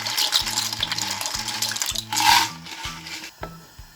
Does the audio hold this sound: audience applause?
no